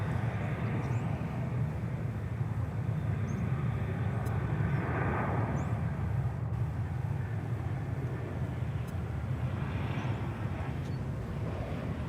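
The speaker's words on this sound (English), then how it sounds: "2577, an Airbus A321, which made a little detour on its first approach. It is now coming in" An Airbus A321 airliner on landing approach at DFW Airport, a faint, distant steady jet drone holding throughout, swelling slightly midway, with light chirps of birds above it.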